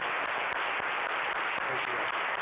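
Sustained audience applause at a film press conference for Bad Times at the Royale, a dense, even wash of many hands clapping that holds steady throughout with no speech over it.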